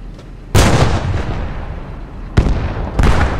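Tank cannon fire in the World War II shooter Post Scriptum: a loud, booming shot, then two more heavy blasts later, each trailing into a rumbling decay.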